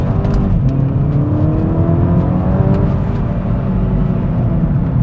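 Volkswagen Golf 6 GTI engine revving in first gear at about 4000 rpm with the throttle floored, heard from inside the cabin: a loud, steady rising drone with harmonic whine, continuous throughout and no talking.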